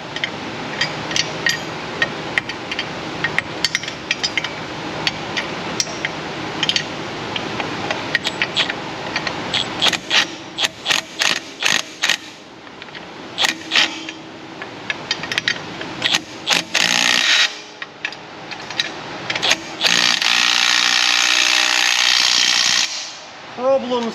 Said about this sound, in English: I'll run the wrench in from the back.